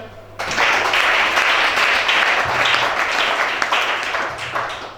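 A church congregation bursts into loud, sustained applause with dense clapping and some cheering voices, starting abruptly and holding strong for several seconds before easing slightly.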